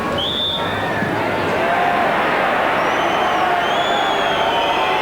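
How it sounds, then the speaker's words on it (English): A Finnish football crowd at a 1994 World Cup qualifier against France reacts to a free kick with a loud, continuous stadium roar of jeers and whistles, steady throughout with no break. "Free kick, the Finnish crowd don't like that."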